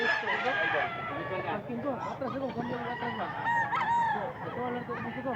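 A white-legged bull stag rooster crows repeatedly, loud and close, each crow a drawn-out rising and falling call, with other fowl honking and clucking around it.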